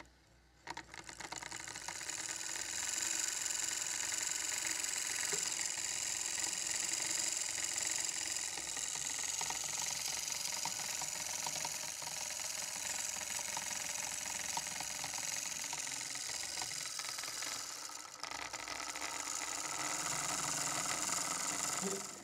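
A small electric motor drives a model carousel, giving a steady, continuous mechanical whir with light rattling, fairly close and unbroken apart from a brief dip near the end.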